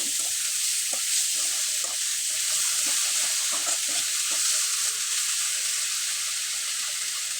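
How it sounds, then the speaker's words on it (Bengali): Homemade rice noodles with tomato sauce are stirred in a hot pan: a constant bright frying hiss runs throughout, with soft, irregular scraping and tapping from the spatula underneath. "আবারও কিছু সময় একটু ভালোভাবে নেড়ে চেড়ে নিতে হবে"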